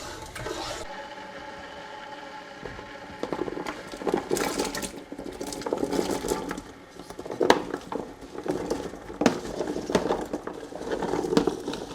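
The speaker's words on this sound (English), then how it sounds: "We're going to give this a really good stir and bring to a boil." Peppers are stirred in syrup in a cooking pot for maple pickled jalapenos and cowboy candy, giving soft irregular scraping, sloshing and clinking that builds after a quiet start and continues near and moderately loud.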